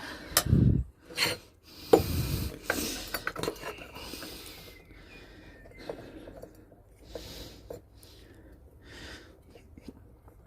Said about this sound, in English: now I'm going to put the cylinder on